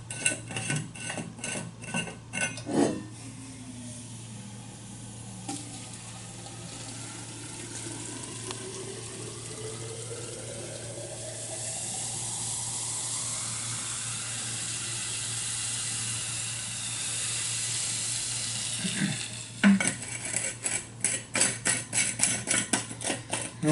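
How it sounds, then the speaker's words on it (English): Liquid nitrogen is poured into a dewar container with a steady hissing, bubbling rush like running water. The sound rises and shifts in pitch as the vessel fills, with metallic clinks at the start and end. "I put the liquid nitrogen into this special container called a dewar"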